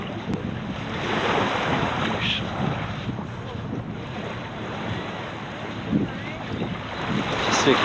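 A small Quintrex 75 motor boat putters along at a popular Sydney beach, its low engine drone steady under surf, waves and gusty wind noise across the microphone.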